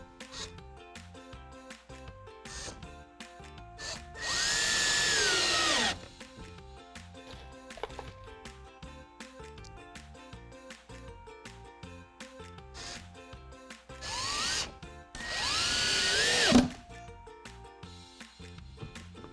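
A power drill driving screws into lumber pilot holes while building a wine rack, two long whirring runs that rise and bog down, close and loud, with faint background music and handling noise between.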